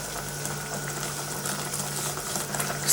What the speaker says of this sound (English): Still bubbling away.